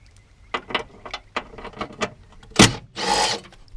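Power tool backing out 10mm bolts on a Ford Ranger during a steering wobble repair, several short close whirring bursts followed by a louder sharp rattle and a longer rasping whir at the end.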